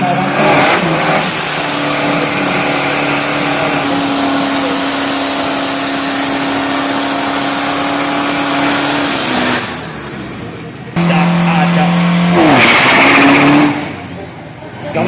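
A 1500 kg turbo 3.0 street truck on radial tyres roars through a drag racing run, a loud sustained engine drone with rising and falling pitch, cutting off and then surging again, with a commentator talking.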